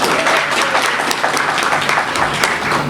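An audience claps loudly and steadily for a few seconds at a film-industry event, a dense, even patter of many hands with no gaps.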